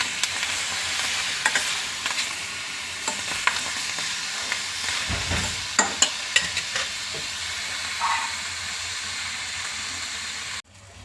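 Tomatoes cooking with tamarind for a quick tomato pickle sizzle steadily in a pan, with a run of scraping stir strokes over a continuous frying hiss, close and fairly loud, no talking.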